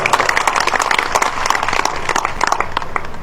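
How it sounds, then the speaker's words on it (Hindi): Dense, continuous applause fills a BJP OBC conference in Safidon as the crowd claps loudly and steadily for Balwant. "जोरदार ताली है बलवंत जी के नाम के ऊपर"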